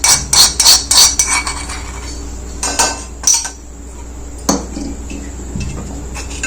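Conditioner stirred into a cooled homemade hair dye mixture in a metal vessel, a rapid run of loud spoon clinks and knocks at first, then sparser taps, close up with no speech.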